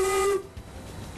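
Steam whistle on the steam-powered Small Town Express sounding one brief, piercing tone that cuts off after a fraction of a second, followed by hissing steam and low rumbling.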